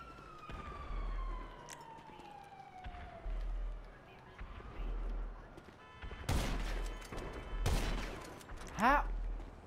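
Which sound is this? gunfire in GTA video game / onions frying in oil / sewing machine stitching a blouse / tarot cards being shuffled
gunfire in GTA video game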